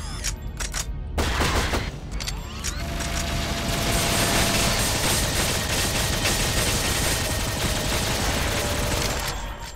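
Sustained minigun fire in the action game Shadowgrounds, a dense, continuous rattling burst that starts after a couple of short shots and roars on loud and close for most of the stretch.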